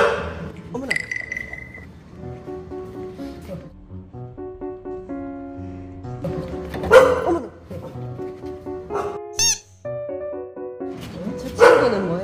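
Dogs at a dog hotel bark and yip in scattered bursts, some sharp and close, between stretches of tonal background music, while people talk nearby.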